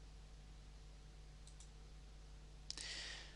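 A computer mouse clicks in accounting software at a desk: one sharp, close click near the end, preceded by a couple of fainter ticks, over a quiet steady hum with no talking.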